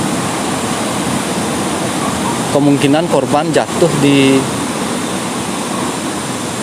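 Flowing river water below a roadside slope in Gianyar, a steady broadband rush like a distant waterfall running throughout, with someone briefly talking over it midway.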